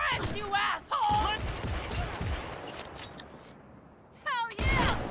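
Sustained gunfire and rapid bursts from the video game Cyberpunk 2077 fill a dense firefight, with shouted voices breaking in near the start and end.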